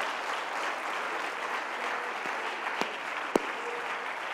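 A church congregation claps and praises during a sermon, a steady wash of applause at moderate distance with a few sharper knocks standing out near the end.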